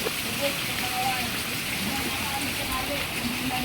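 Steady rain pours down in a flood-prone neighbourhood, an even, dense hiss of drops on surfaces with a faint voice underneath.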